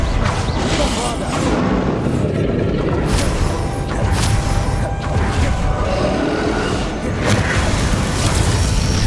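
Explosive spell impacts in the fantasy video game Hogwarts Legacy, heavy booming blasts and crashes over a dense battle din with whooshes, loud and close, with a voice heard among the effects.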